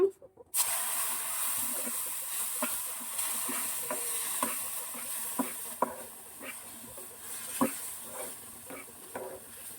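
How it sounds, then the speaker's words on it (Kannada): Ghee-based festive sweet offering in a pan, stirred steadily as boiled milk and water are poured in a little at a time, with soft scraping and a gentle sizzle under a constant hiss, scattered clicks of the spoon. "ಹಾಲು ಮತ್ತು ನೀರನ್ನ ಕಾಯಿಸಿ ಇಟ್ಕೊಂಡಿದ್ವಲ್ಲ ಅದನ್ನು ಈಗ ಸ್ವಲ್ಪ ಸ್ವಲ್ಪನೇ ಹಾಕಿ ತಿರುಗಿಸ್ಕೊಳ್ಳೋಣ"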